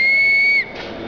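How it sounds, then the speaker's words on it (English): A carved wooden whistle shaped like a pig gives one loud, steady high-pitched tone lasting about half a second, then cuts off abruptly, leaving a faint room hush. "it's an unusual pig in that it's also a whistle."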